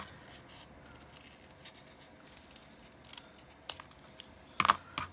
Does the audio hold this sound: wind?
no